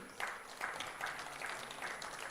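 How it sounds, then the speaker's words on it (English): An audience at a medical conference claps together in a steady, moderately faint round of applause that lasts throughout. "A big clap for him."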